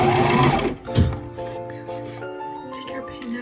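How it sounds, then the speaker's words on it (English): A new sewing machine whirs loudly and close for under a second as it sews a garment's shoulder seam, then cuts off, leaving someone talking. "So I'm gonna sew this shoulder seam."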